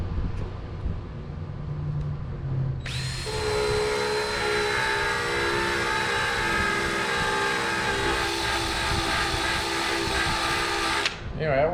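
A spinning wheel on a drill whines steadily for about eight seconds as it strips old adhesive from a door frame, starting abruptly and cutting off sharply, loud and close with no talk over it.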